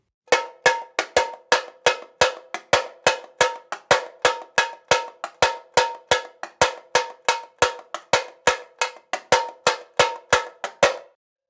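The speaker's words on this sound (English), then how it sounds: "when we muffle between strokes, it sounds something like this" Surdo drum played in a steady alternating two-stroke pattern with the hand muffling the head between strokes, giving about thirty short, dry, evenly spaced hits that ring sharply then cut off quickly, loud and close with no talking.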